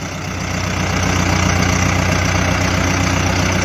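Mahindra Arjun 605 50 HP tractor engine running close by, a loud steady diesel throb with a rhythmic low knock that builds up in the first second and then holds even.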